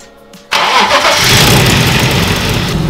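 After a brief quiet moment, a BMW E30 car engine, fitted with a new fuel pump, cranks and catches, then runs loudly and steadily close by.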